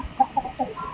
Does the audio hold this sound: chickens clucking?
yes